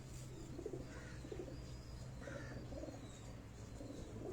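Breeder pigeons cooing softly in a rooftop loft, low murmuring coos repeating throughout with faint chirps in the background and no speech.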